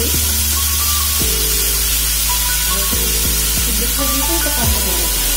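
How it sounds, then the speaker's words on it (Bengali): Banana flower and prawns sizzle in a hot pan as they are stirred, making a continuous loud frying hiss under melodic background music. "তাহলে এটাকে ভালোভাবে নাড়াচাড়া করে ঘুরিয়ে দেবি।"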